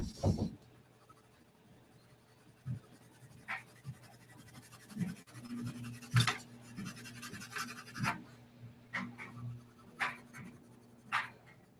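A pencil scratches and sweeps across paper while a drawing of a Bugatti Veyron is shaded, irregular close strokes with pauses between them and a faint background hum.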